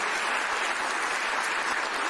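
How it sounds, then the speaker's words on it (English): Steady, dense applause from a large crowd welcoming returning city workers at a mayor's press event, continuous and fairly loud with no gaps or talk. "Can we give them a round of applause since they're back?"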